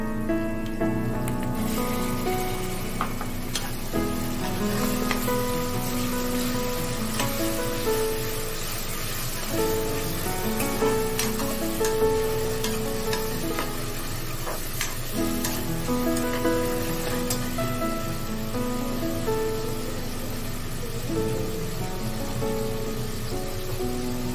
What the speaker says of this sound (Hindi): हिरवी मिरची, कोथिंबीर, आलं, लसूण ते पहिले टाकून घेऊया. चांगलं परतून घेऊया.